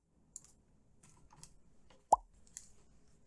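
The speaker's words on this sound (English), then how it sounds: "bring in a couple sound effects that I downloaded, like this pop sound effect" A single downloaded pop sound effect, a short bright plop that stands out sharply about two-thirds of the way through, surrounded by faint clicks and quiet background noise.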